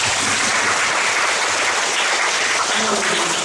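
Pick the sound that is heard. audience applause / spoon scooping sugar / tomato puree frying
audience applause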